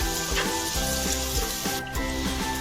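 Spring onion and green chili fry in a pan for butter garlic chicken, giving a steady close sizzle under a tonal background hum.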